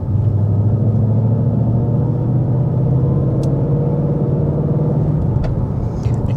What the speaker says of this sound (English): You can just hear the faint whine of the supercharger.